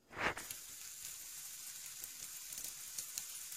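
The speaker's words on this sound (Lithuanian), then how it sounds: "Ir viską gražiai apkepame." Rolled banana pancakes fry in a little oil in a pan, giving a steady, soft sizzle throughout after a brief louder clatter at the start.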